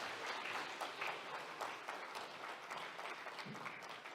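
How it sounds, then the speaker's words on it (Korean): Audience at a National Assembly awards ceremony applauds the Assembly speaker, a steady, fairly faint spread of clapping heard from some distance, continuous with no voices. "좋은 말씀 전해주신 의장님께 다시 한번 큰 박수 부탁드립니다"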